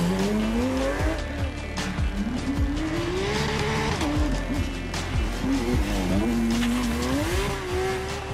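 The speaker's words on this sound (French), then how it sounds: "dans la Porsche, c'est vraiment le moteur qui parle, le flat 6 qui fait un bruit, 500 chevaux sur les roues arrière." A 500-horsepower Porsche flat-six rally car drives the Rallye du Touquet, its engine rising and falling through gear changes with repeated revving sweeps, tire squeal and loud crowd-side noise, continuous and close.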